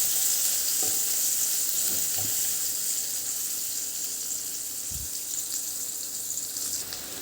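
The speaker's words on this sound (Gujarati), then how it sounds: "લીલા મરચાં ને થોડી ડુંગળી એડ કરીશું। આને થોડું આપણે સાંતળી લઈશું।" Green chillies and chopped onion sauté in a pan for a sambhar-style dried pigeon pea curry, a steady broadband sizzle with a few soft spatula scrapes and knocks, close and continuous with no talking.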